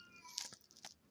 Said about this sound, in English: cat is going crazy over here